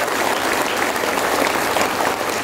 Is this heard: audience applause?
yes